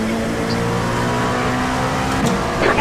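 Race cars in an IMSA racing game at Laguna Seca drone with steady engine tones, another car closing and passing near the end, with a radio voice heard briefly.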